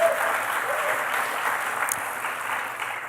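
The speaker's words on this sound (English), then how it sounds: "Let's give a round of applause to the organizers," Steady applause from an audience at a tech community event honoring its organizers, a dense wash of many hands clapping continuously at even volume with faint crowd murmur underneath.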